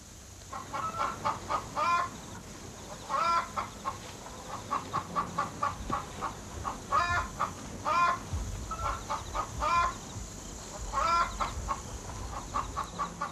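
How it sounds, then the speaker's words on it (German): Chickens cluck in repeated bursts on a permaculture farm where they peck up pests, a steady run of clear, fairly close calls over low background rumble with no talking. "so picken diese die Hühner auf"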